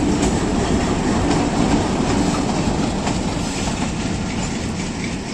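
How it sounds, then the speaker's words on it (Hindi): The Hazara Express, led by a PH20 locomotive, rolls into Haripur station on the way toward Rawalpindi with a loud, continuous rumble of rolling cars and clattering wheels, close and steady with no talking. "लोकोमोटिव PH20 8308 की क़ियादत में 12 डाउन हज़ारा एक्सप्रेस पहुंच गई है हरीपुर हज़ारा।"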